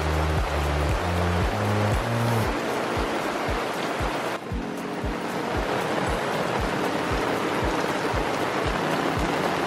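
Steady rain hisses across everything at a campsite, with a low, regular tapping or thumping pulse running underneath throughout.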